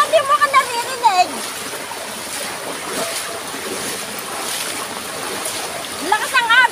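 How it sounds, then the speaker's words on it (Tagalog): Strong floodwater current rushing along in a steady broad roar, close and loud, with sharp whistling tones at the start and end. "Malakas ang agos."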